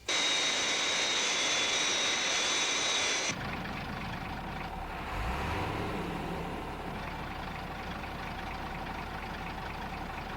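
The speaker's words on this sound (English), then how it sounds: "Aircraft approaching glide path 5 miles to threshold." A Fireflash jet airliner on final approach in a puppet adventure series, heard as a loud, steady jet engine roar that drops to a lower, sustained rumble partway through, with no voices.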